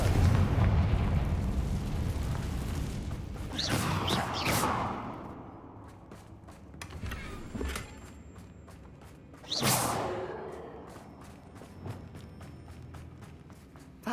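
Confringo fire spell blasts in Hogwarts Legacy, two booming explosions with whooshing bursts, the first near the start and a second sharp one midway, each decaying into rumbling debris and ambient game noise.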